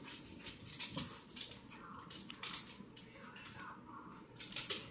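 Puppies whimper and yip softly in short, uneven bursts, with faint shuffling around them.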